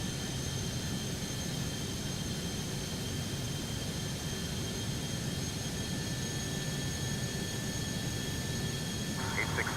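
Steady jet engine drone from a VSkyLabs 510X very light jet in X-Plane 12, a continuous even roar with high whining tones held throughout, unchanging and loud in the cabin.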